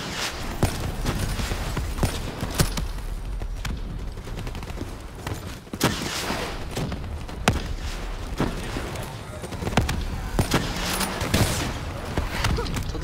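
Rapid gunfire in the video game Call of Duty: Black Ops 3, sharp repeated shots in uneven bursts over a dense background of game noise, with no clear talking.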